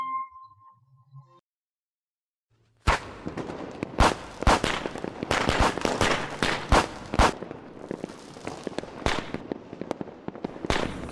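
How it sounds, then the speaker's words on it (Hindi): Firecrackers bursting at a village Diwali celebration, a quiet pause and then a dense run of sharp, loud cracks and pops, some close and some further off, overlapping irregularly for several seconds. "चल ना फटाका फोड़े जाबो"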